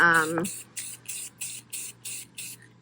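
Short, evenly spaced bursts of spray paint hiss from an aerosol can while coating a lamp, about six quick sprays in a row, close and fairly soft, after a brief voice at the start.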